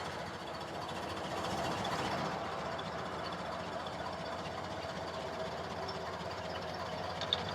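A restored 1929 Ford Model A engine idling in neutral with the throttle eased down, a quiet, steady low rumble with a faint even ticking, continuous and fairly distant, with no voices.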